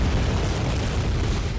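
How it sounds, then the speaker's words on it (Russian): Sustained machine-gun fire and explosions in the dark action game Bloodborne, a dense, loud, continuous rumble of booms and bursts filling the whole stretch with no pauses. "Пулеметчик стреляет, и все взрывается."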